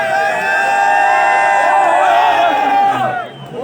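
Dense crowd at a night-time Ramadan tape-ball cricket match roars and cheers, with whoops and shouts layered in a loud, sustained wash of voices that dips briefly near the end.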